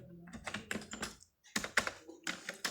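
Close, quiet typing on a computer keyboard, with rapid key clicks in short runs and a brief pause in the middle.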